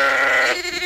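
A sheep gives one loud, close bleat, a wavering nasal cry that breaks off abruptly partway through, heard alone.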